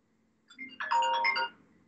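A mobile phone ringtone chimes for about a second in a quiet room during a live Italian interview, a melodic electronic jingle that rings up loud and then cuts off.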